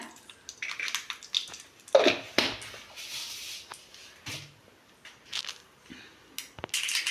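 Mustard seeds sputtering in hot sesame oil, scattered sharp pops and crackles in irregular bursts, fairly close and moderately loud, with no talking.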